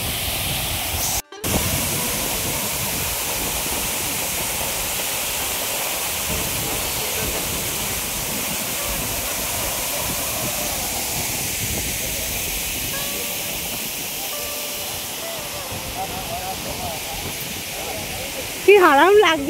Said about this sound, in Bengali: এখান থেকে জলের ছাড়টা আসছে, কি সুন্দর